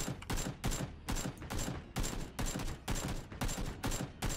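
Gunfire in the video game PUBG: rapid bursts of automatic shots repeat in a steady rhythm, loud and close, with no talk over them.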